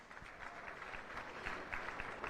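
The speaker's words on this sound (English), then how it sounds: "Ladies and gentlemen, one more time, round of applause." An audience at a Hawaiian music awards pre-show applauds steadily, a dense wash of many hands clapping at moderate distance throughout, with no voices over it.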